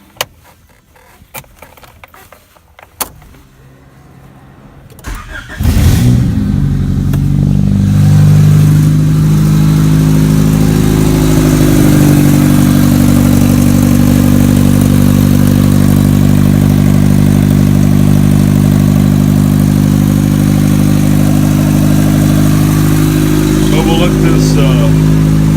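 An '89 Acura Integra with a turbocharged D16 engine clatters briefly, then fires up and settles into a loud, steady idle that runs close and unbroken for about twenty seconds, with faint voices near the start.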